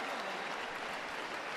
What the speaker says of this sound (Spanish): un aplauso cerrado para la que va ganando